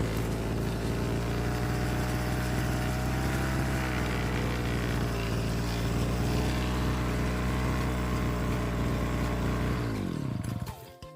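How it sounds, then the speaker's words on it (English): A weed whacker fitted with a metal saw blade roars loud and close at steady high revs while cutting tree stumps, then winds down sharply near the end. "So this is a job that the weed whacker is doing, peeps. I have a saw blade on it."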